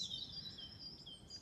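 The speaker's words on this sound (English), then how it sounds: "You hear the birds singing" Birds sing outdoors in a garden, giving faint, high chirps and tweets over a quiet background, with no one talking.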